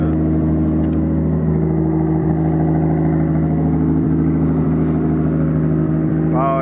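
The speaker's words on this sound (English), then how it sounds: "Why is your car so loud?" A Mitsubishi Lancer Evolution X idles loudly through a 4-inch exhaust with a deep, throaty drone, steady and close throughout, with a brief rev near the end.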